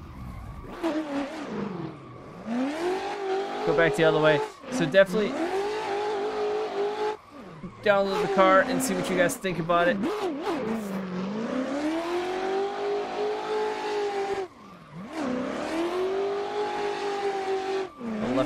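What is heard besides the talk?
Pro M4 drift car skidding and revving in video game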